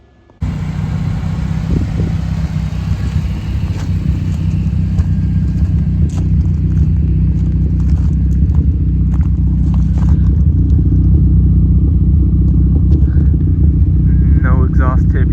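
A K-swapped Honda CRX engine with a newly welded Blox exhaust and no exhaust tip rumbles steadily at close range, a deep throaty idle with occasional light clanks and rattles around it.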